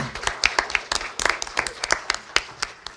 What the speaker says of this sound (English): let's stop here and just give applause to these 3 schools